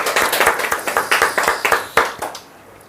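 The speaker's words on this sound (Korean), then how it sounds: "박수 한번 하겠습니다." A church congregation at a Sunday worship service clapping together in a brief burst, a dozen or so distinct, fairly rhythmic claps ringing out in a reverberant hall, then stopping abruptly; no one speaks over it.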